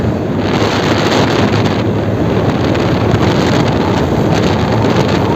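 Strong wind blowing across an open microphone on a roadside by a truck, a constant loud rumbling buffet with no break and no voices.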